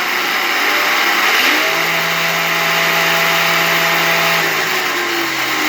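A radio-controlled car fitted with belted wheels runs at full throttle, its electric motor holding a loud, steady high-pitched whine that rises slightly and stays continuous throughout, with no talking.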